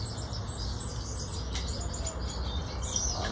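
Small birds chirp and tweet near a cage holding a nesting mother bird, light, scattered calls over a steady background hiss.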